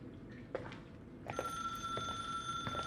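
An old telephone rings in an abandoned building in the horror video game The Suicide of Rachel Foster, a faint bell tone rising over a low ambient room drone with soft knocks and shuffles.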